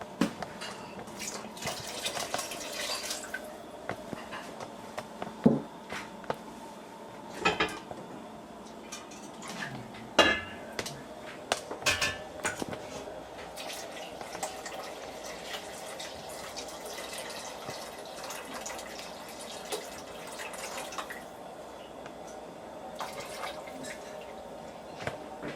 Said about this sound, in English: Now it is time to pour the wine and the broth in.